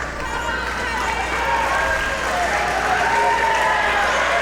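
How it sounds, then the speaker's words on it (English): Crowd applause at a wrestling show, Rampage Classic VIII, a steady wash of clapping and crowd noise swelling slightly, with a commentator talking over it. "the applause from the crowd"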